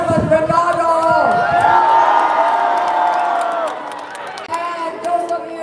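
A large outdoor crowd at a Portugal vs Spain World Cup watch party in Nathan Phillips Square, Toronto, cheering and whooping for Ronaldo, voices swelling into a loud sustained roar before tapering off.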